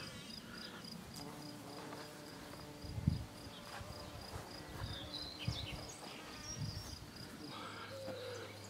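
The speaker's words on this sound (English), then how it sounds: "all the bumblebees are just thoroughly enjoying themselves at the moment" Bumblebees buzz among poppies swaying in the wind outdoors, a soft insect drone that holds steady through the whole stretch, with faint bird and garden sounds behind it and no speech.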